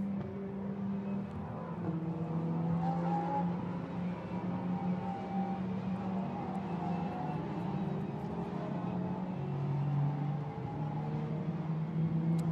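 Lamborghini Super Trofeo race cars circulating on the Barcelona circuit during a European race, a steady blended engine roar from several cars at a distance with shifting pitch, no voices.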